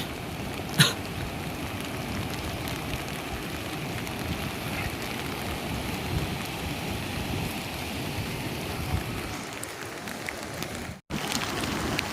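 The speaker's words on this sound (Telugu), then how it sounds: "మొత్తం వర్షం." Steady, dense rain pours down evenly on a village flooded after a pond embankment broke, with a constant broadband hiss and no pauses or voices.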